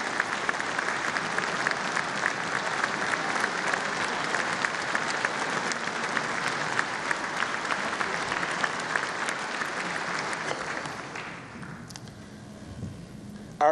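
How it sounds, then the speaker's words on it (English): A large audience at the 2018 West Virginia State of the State address gives loud, sustained applause that fills the hall, then fades away over the last couple of seconds. "So please give them a great round of applause."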